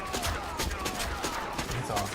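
Rifle shots from the gunslinger Erron Black in the fighting game Mortal Kombat 11, a rapid string of sharp cracks over game effects, with a voice talking alongside.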